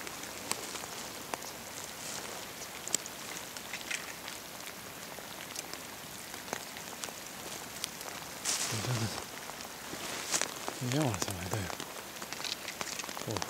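Steady rain falls outdoors at a fishing spot, a dense constant patter over the whole stretch, with a few brief bird-like chirps and faint voices in the middle and toward the end.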